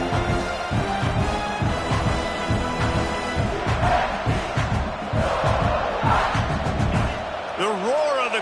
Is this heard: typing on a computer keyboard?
no